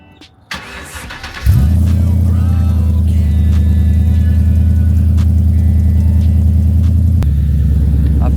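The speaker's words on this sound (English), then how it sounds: "Get a little cold start up," A car fitted with a Ford Coyote V8 cold-starts with a brief crank after some light clicking, then settles into a loud, steady, deep rumbling idle with a slight blip near the end.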